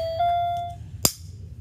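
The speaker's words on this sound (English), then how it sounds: "Move, or I'll shoot this gun." A toy cap gun in a plushie skit fires once, a single sharp crack after a sustained electronic tone fades.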